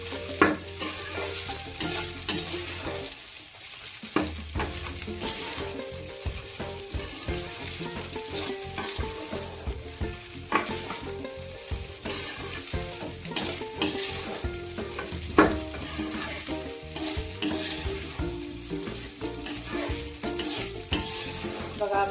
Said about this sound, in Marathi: त्याला टाकून छान मिडियम परतून घेऊया.